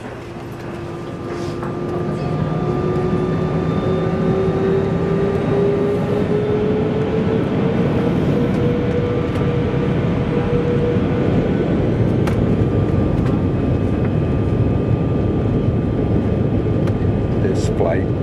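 Steady broadband cabin drone of an airplane waiting before a first flight, with a rising engine whine building in the opening seconds and then holding loud and constant throughout; people talk faintly over it.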